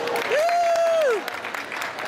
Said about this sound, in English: Give him all a round of applause